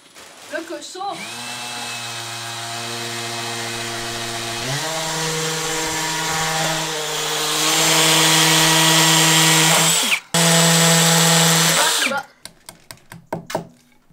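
A loud, whining hammer drill runs continuously, its pitch rising partway through, then briefly cuts out and restarts before stopping with a few clicks.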